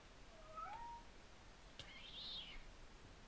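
A cat meows in a video game, giving a couple of faint, high, chirpy mews spaced apart over a quiet background.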